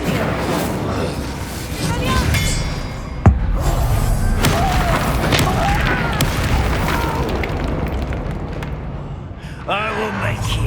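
Incendio fire spell blasts in the video game Hogwarts Legacy, a loud boom punctuating dense battle noise with crackling bursts and a voice calling out over the fight.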